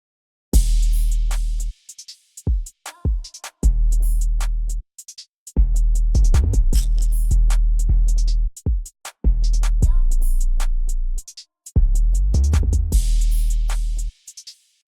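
A full beat pairs booming 808 bass and sharp drum hits with VST preset melodies, layered bright synth textures running steadily over a punchy rhythm with brief breaks between phrases.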